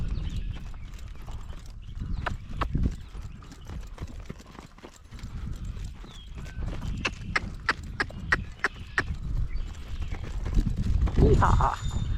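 A Morgan gelding trots and bucks during a gale-force wind storm, with rhythmic hoof clip-clops, a sharper burst of hoofbeats and a neigh near the end, while a person talks and calls out over the wind.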